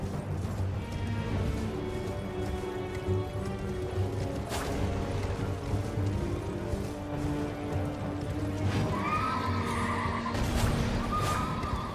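Torrent, the spirit horse in the game Elden Ring, whinnies amid loud, dense in-game combat noise, with a brief rising neigh near the end over clashing effects and music.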